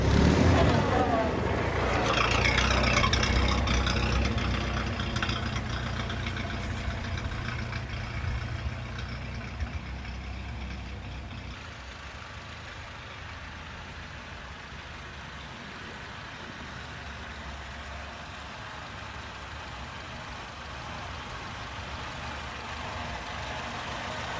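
A vintage 1928 car's engine runs steadily with a low, rumbling idle, louder at first and then settling into a constant drone for the rest of the stretch.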